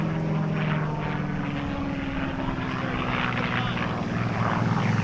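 A P-51D Mustang warbird flies past at an air show with a loud, steady propeller drone and rising engine tones. An announcer talks over the aircraft noise.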